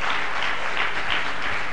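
Applause welcomes poets at a poetry gathering: a dense, even burst of many hands clapping, loud and continuous throughout the short span with no talk.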